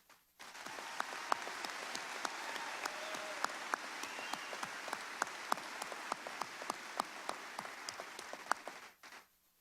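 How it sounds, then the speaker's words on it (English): Audience applause at a Southeast Missouri State University spring commencement, a steady wash of many hands clapping for about nine seconds, with sharp individual claps standing out, then cutting off abruptly. "please join me in a round of applause for what this group of candidates has accomplished"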